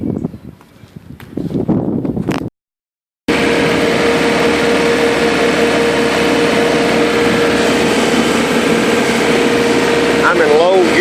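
A tractor pulling a universal aeravator works soil while seeding bermudagrass, producing a loud, steady engine drone with mechanical rumble. The drone holds for most of the clip after a short break, with talk over it.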